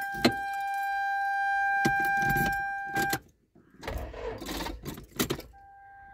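Car that fails to start because its lights were left on, a strained electronic whine and clicking under near-silence, followed by short uneven cranking bursts that never catch, close by.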